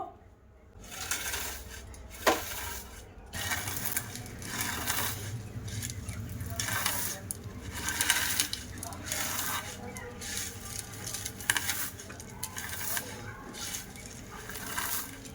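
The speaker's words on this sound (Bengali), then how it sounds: "এবার আমি ভালো করে ভেঙে গুঁড়িয়ে নেব।" Lachha vermicelli is broken and crushed by hand, giving a steady dry crackling and crunching close up, with someone talking over it throughout.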